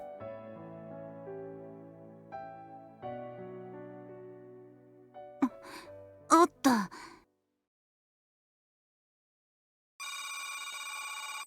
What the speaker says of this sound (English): Suzu's cell phone begins to ring.